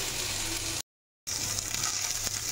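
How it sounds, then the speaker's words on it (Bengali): Fish seasoned only with salt frying in a pan, giving a steady, close, hissing sizzle that cuts out abruptly into a short stretch of silence before resuming. "আমি মাছটা ভাজি করে নেব।"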